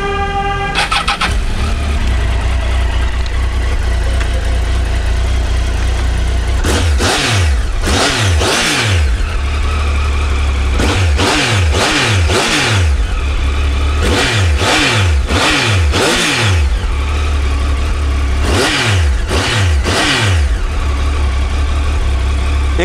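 A motorcycle engine idles with a loud, steady rumble, then is revved in several sharp bursts, some single and some in quick pairs or triplets, each rising and falling back to idle.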